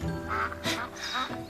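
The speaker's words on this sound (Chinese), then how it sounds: "这河边还有鸭子呢" Ducks quacking by a riverside, several nasal calls in quick succession, close and fairly loud with no talk over them.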